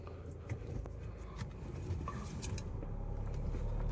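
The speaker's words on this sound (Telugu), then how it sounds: "కార్ డ్రైవింగ్ టెస్ట్ చేస్తున్నా" An MG Hector Plus on a test drive gives a low, steady cabin rumble of road and engine noise that grows slightly louder, with small clicks and taps over it.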